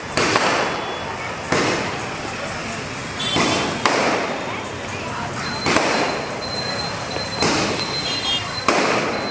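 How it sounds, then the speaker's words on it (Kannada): Firecrackers burst at a Ganesh festival celebration, about half a dozen loud sharp bangs at uneven intervals with crackling tails, over a busy crowd background. "ಬಟ್ ಅಲ್ಲಿ ಗಣೇಶನ ಕೂರಿಸಿದ್ರು. ಸೊ ಪಟಾಕಿನೆಲ್ಲ ಹೊಡಿತಾಯಿದ್ರು."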